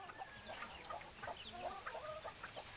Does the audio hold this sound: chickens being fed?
yes